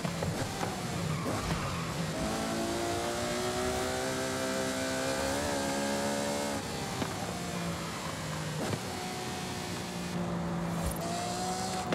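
A high-revving Ferrari V12 roars continuously past 9,000 RPM with rising and falling pitch, a raspy racing-car sound heard from outside in Forza Horizon 5, loud and steady throughout.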